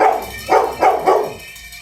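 A dog yelps like a puppy in a quick run of three or four high, whining cries, heard over a muffled, echoing background with no talking.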